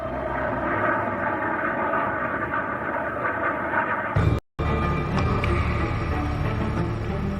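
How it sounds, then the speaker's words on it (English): The royal plane's aircraft engines drone steadily and loudly at Aberdeen Airport, a continuous roar with a brief cut partway through before the drone resumes unchanged. "Princes Charles, William and Harry boarded the royal plane at Aberdeen Airport."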